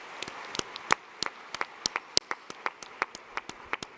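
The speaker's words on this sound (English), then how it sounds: "Give him a round of applause." Audience applause at the 2023 43North startup finals, sparse and fairly quiet, with distinct individual claps from a small number of people popping irregularly across the whole stretch.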